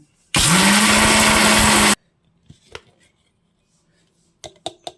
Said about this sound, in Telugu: ఇలా మిక్స్లో వేసుకొని దీన్ని ఇలా గ్రైండ్ చేసుకోవడమే.